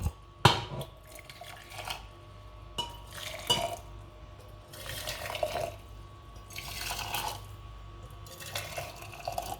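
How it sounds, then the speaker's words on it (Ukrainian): Boiling water trickles and splashes as it is poured into jars to sterilize them, with occasional clinks of glass and metal, fairly quiet and close. "Стерилізую банки, наливаючи в них окроп."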